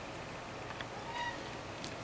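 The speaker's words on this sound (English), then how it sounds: "Here's the meow." Pet cat meowing indoors: one short, faint meow rising briefly out of steady background hiss. No speech is heard.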